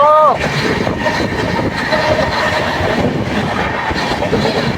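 The Gour Express rushes along the line at high speed with a loud, constant roar of wheels and carriage rumble. A brief sliding tone opens the passage, and the noise stays close and unbroken throughout.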